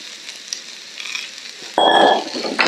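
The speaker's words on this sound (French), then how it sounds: "Voilà, je commence à remuer." Carrots and zucchini sizzle hard in a hot wok for a stir-fry of vegetables and chicken, quiet at first, then a loud burst of frying and stirring with a few utensil scrapes.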